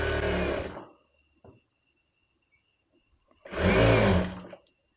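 A sewing machine stitches around the edge of a baby's silk skirt in two short, loud bursts of rapid whirring, with a quiet pause and faint handling clicks between them.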